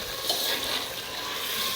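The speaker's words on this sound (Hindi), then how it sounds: "अब हमने लिया है जी 1 गिलास दूध का। ठीक है, और वो हम इसके अंदर डालेंगे।" A glass of milk poured into frying chicken in a pot while making chicken white handi, giving a steady hissing sizzle with wet bubbling and stirring noise throughout, close and continuous, with no talk.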